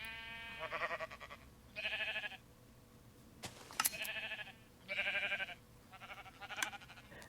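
Sheep bleating in the video game Minecraft inside a sheepfold on a sheep farm, several separate bleats in an irregular sequence, moderately close and clear, with no talk over them.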